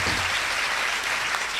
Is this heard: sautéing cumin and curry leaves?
no